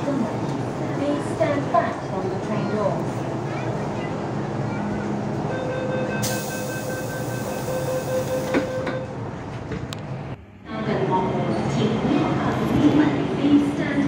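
Inside a moving train, a constant rumble and rattle of the carriage is heard with occasional clicks. A high electronic tone sounds for a couple of seconds, and the noise drops briefly before the rolling resumes. People talk faintly in the background.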